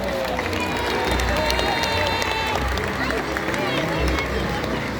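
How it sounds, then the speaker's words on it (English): Large audience applauding and cheering in a SeaWorld orca stadium, a steady dense wash of clapping and crowd noise with scattered voices throughout, fairly loud and continuous. "Go ahead and give yourselves a round of applause."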